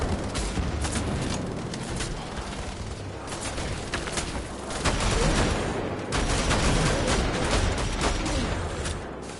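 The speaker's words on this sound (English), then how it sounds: "Let's throw all these grenades." Grenades thrown and exploding in a Wolfenstein shooter mix with dense gunfire, a continuous loud barrage of blasts and rapid shots that swells in intensity partway through, with no talking.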